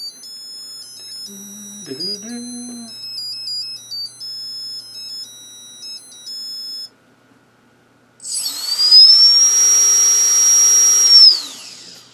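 An FPV drone's ESC sounds its startup beep sequence as the battery is plugged in after a crash: a string of clear, stepped electronic tones, then a pause and a louder, sustained motor whine that rises and cuts off.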